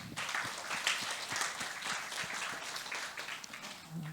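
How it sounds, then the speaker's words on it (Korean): A church congregation gives a round of applause during a Sunday service, a steady patter of many hands clapping at moderate distance and fairly soft throughout. "우리 하나님께 영광의 박수를 다시 한번 올립시다."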